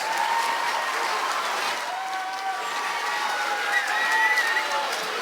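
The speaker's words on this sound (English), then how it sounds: "Let's give the first grade one final round of applause." An audience at an elementary school kindergarten and first grade spring concert gives the first graders a final round of applause: dense, steady clapping and some cheering fill the room throughout.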